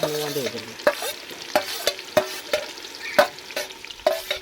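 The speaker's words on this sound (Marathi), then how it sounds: "सद्यान टोपात फोडणी दिलेली आहे" Hot oil sizzles steadily as spices temper in a pot while a spoon scrapes and stirs in regular strokes, close and fairly loud.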